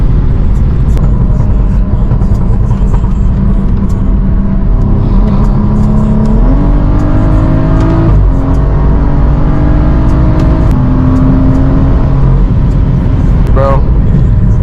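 BMW F30 335i with an N55 engine pulling through the gears while driving, a loud close engine drone climbing in pitch in steps, with wind noise and speech over it.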